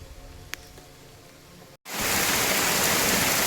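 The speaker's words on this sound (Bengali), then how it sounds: "এই যে বৃষ্টি শুরু হয়ে গেছে" Heavy monsoon rain in a garden starts abruptly after a quiet moment, turning into a loud, dense, continuous hiss of downpour that stays close and steady to the end.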